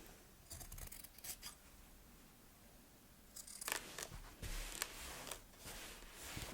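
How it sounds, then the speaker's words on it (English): Scissors trimming t-shirt fabric close to a seam, with a few quiet crisp snips early on and then a quicker run of louder cuts, each slicing sound close by and clear, with no talking. "I'm just going to trim closely to that stitching"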